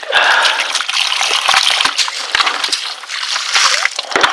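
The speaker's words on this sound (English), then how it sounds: "Empty out the bucket first. Clean it out" Water diluted with antifreeze pours out of a bucket while a Ford heater core is flushed, a steady loud slosh and splash that runs the whole time without letup.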